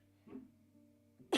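A single quiet cough follows a soft throat sound in a quiet room, ending in a short, sharp burst. No one speaks.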